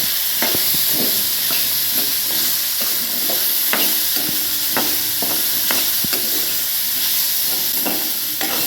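Radish being stir-fried in oil with turmeric: a constant loud sizzle broken by repeated sharp scrapes and taps of a spatula against the pan at an irregular rhythm, close and without voices.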